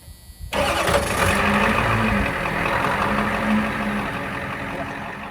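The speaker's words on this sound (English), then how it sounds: "It's a 1989 Ford F-250 diesel" A 1989 Ford F-250 diesel truck cranks and fires up after a brief quiet moment, then settles into a loud, steady, rumbling idle close by.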